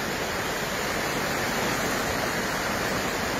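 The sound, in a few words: swollen river rushing after heavy rains in El Salvador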